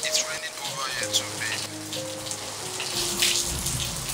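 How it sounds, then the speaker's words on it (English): Rain falls steadily outdoors, a close, continuous patter and hiss with scattered drips, while a person talks faintly in the background. "It's raining over here too,"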